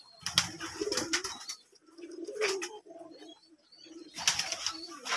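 Pigeons coo and flap their wings nearby while a cat keeps watch over them, with several sharp bursts of wingbeats among soft, low cooing phrases.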